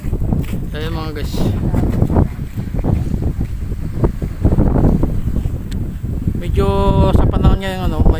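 A small wooden outrigger boat in the Philippines pushes through choppy water, with a constant rushing roar of hull, spray and wind on the microphone, while someone talks over it nearby.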